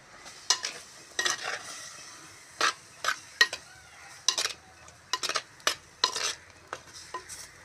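Sliced green chillies fry with cuttlefish in a pan while a utensil stirs, making irregular scrapes and clinks against the metal over a faint sizzle, with no talking.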